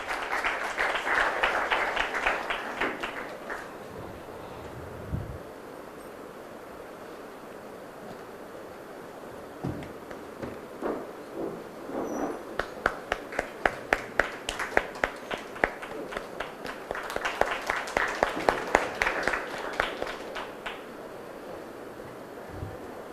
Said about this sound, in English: Please give a big round of applause to welcome ma'am to KBS.